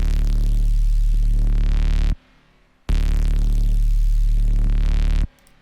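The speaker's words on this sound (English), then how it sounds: "So just with distortion, this effect sounds like this." A heavily distorted sound effect built for DOOM-style game sound design, playing as two loud, dense, buzzing bursts of about two seconds each, separated by a short near-silent gap.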